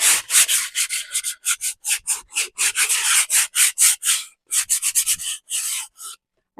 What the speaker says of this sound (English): I'm roughing up the napkin.